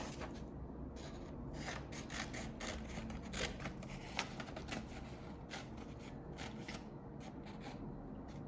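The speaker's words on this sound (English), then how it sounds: "now we will take our scissors and cut snips." Scissors cut paper into strips for a kids' paper lantern craft, making a steady run of close, crisp snips that repeat quickly, with no talking.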